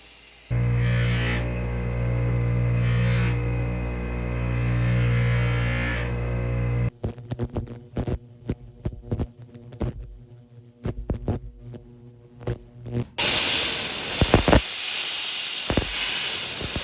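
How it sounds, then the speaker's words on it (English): Polishing an antique platinum ring on a motorized polishing tool: a steady loud whine and hum, then a stretch of choppy buffing bursts with brief pauses, ending in a harsher, brighter hiss as the machine runs on. "Now we're gonna clean and polish the rest of the ring."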